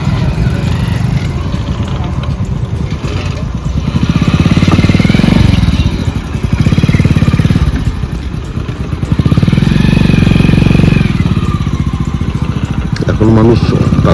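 Motorcycles being loaded onto a river boat for a crossing, engines revving loudly and idling in close surges with clattering, while people talk over the noise.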